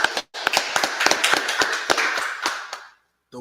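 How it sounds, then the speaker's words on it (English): Sharp hand claps, about a dozen irregular strikes bunched close together over music-like tones, loud and near, ending abruptly before a short silence. "Clap it up, clap it up."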